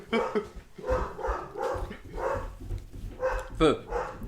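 A pet dog howls in a series of drawn-out, wavering cries that recur every second or so, close to the microphone, while people talk on a podcast.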